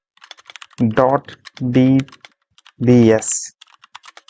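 A computer keyboard clicks with scattered quick keystrokes while someone talks over it in short phrases.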